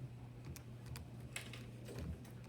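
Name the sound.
typing on a calculator keypad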